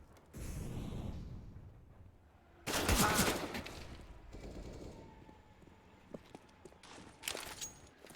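Gunfire in a Counter-Strike match at an ESL Pro League qualifier, with bursts of rapid shots, a loud volley near the middle and scattered single cracks, alongside faint footsteps.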